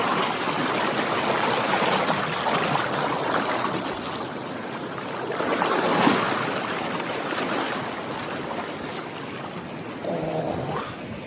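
River water rushes steadily as a swimmer floats down a cold river near Telluride, Colorado, a continuous broadband wash that swells briefly around the middle, with a faint low splash near the end.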